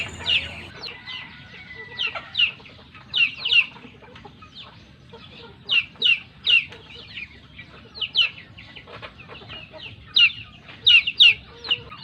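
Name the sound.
chicken clucking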